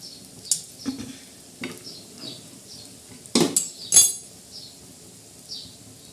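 Kothimbir vadi, coriander fritters, shallow-frying in a little oil in a kadhai, with a soft steady sizzle and clinks and scrapes of a utensil stirring and turning the pieces, two louder knocks near the middle.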